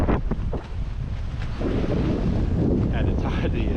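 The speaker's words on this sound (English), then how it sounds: "it's so windy" Strong gusts buffet the microphone at a lakeside campsite on an island in Lake Murray, South Carolina, a loud, rough roar that rises and falls without a break, with a voice briefly heard under it.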